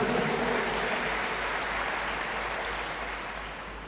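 Audience at a church seminar claps in a steady, diffuse wash of applause, moderately loud and slowly fading.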